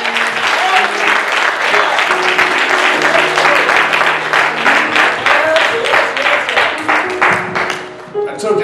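Church congregation clapping their hands together in a steady, dense burst of applause, with some cheering and voices mixed in; the clapping stays loud throughout and thins slightly toward the end.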